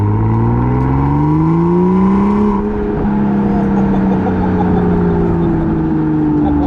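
A 2016 BMW M2 accelerating hard through a corner, its engine note climbing steadily in pitch, dipping briefly, then rising again. The sound is loud, close and continuous.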